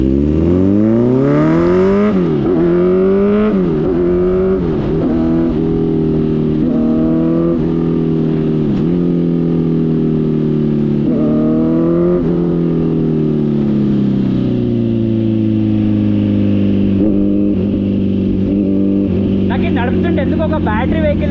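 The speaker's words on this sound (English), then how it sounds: "So this is a 900cc beast Maki." A Kawasaki Z900 900cc motorcycle with an Arrow full exhaust and no dB killer, its engine loud and close, revving and accelerating through rising and falling pitch sweeps as it pulls away, with speech over the engine.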